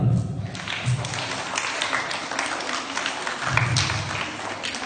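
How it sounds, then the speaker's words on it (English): Students at a school assembly clap in a scattered round of applause, moderately loud and uneven, with a few brief voices mixed in. "Give them a very good applause."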